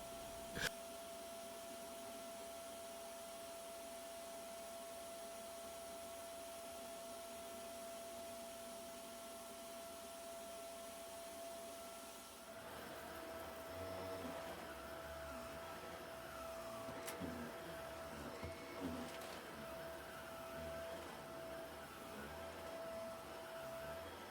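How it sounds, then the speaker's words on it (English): A full-size corded vacuum cleaner runs with a steady high whine, then its pitch and roar shift midway as it keeps going loudly without any voices. "there is nothing like the power of a full-size corded vacuum cleaner."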